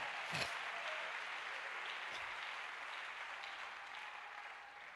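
A church congregation claps and cheers in a steady, fairly faint wash of applause that slowly fades toward the end.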